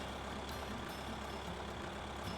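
A tractor engine in Farming Simulator 2013 drones steadily and low, a continuous diesel-like rumble with no pauses, heard alone at moderate level.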